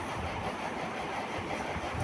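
Ride aboard a mini metro train, a steady loud rumble of rolling carriages with faint rhythmic rail clatter throughout, no voices.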